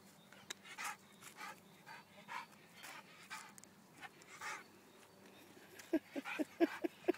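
A puppy on its first walk by the lakes pants softly in steady rhythmic breaths, then gives a few short high whimpers near the end, close and quiet.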